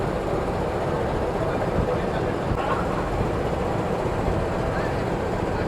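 A Supas commuter train hauled by a CC206 double-cab locomotive rumbles steadily and continuously at close range with broad rolling noise. Faint voices can be heard underneath.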